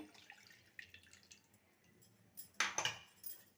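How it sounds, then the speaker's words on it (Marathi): Water is poured from a mixer jar over crushed ginger pulp in a strainer, giving a short, faint splash and trickle after a few quiet drips. "थोडंसं पाणी मी मिक्सरच्या भांड्यात घेतलेलं आहे तर यावरती टाकूया"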